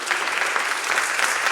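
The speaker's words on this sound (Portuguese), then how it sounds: "Então aplaude e celebra o nome do nosso Senhor." A church congregation claps together in one dense, continuous burst that stays loud and even from start to finish.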